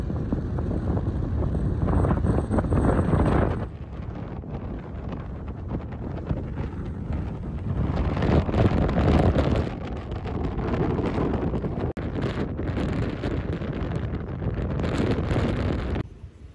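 Strong wind buffets the microphone in heavy, roaring gusts that rise and ease over and over, with no voices, on an island beach.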